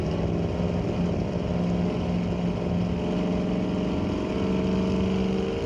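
A 1966 Mercury drag car with a 399 Ford engine launching at a drag strip, a loud, steady engine roar with a sustained droning tone filling the whole stretch, close and continuous, no voices over it.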